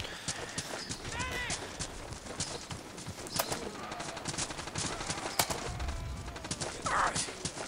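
Battlefield 2 demo gunfire: scattered sharp shots crack through a busy battlefield mix, some close and loud, others farther off, with irregular timing and no steady rhythm.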